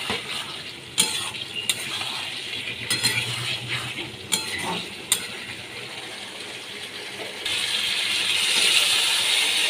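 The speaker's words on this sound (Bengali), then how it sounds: "ডিম আলুগুলোকে আমি ভালো করে কষিয়ে নিচ্ছি।" Eggs and potatoes are stir-fried in a pan for a cauliflower egg curry, with a few sharp spatula knocks and scrapes over a sizzle that grows louder and hissier toward the end; no one speaks.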